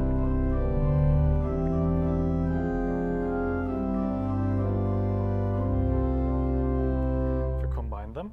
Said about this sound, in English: Then there's a principal 8.